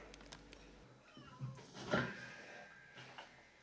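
A cat meows once, close and clear, with a couple of fainter mews around it in a quiet room.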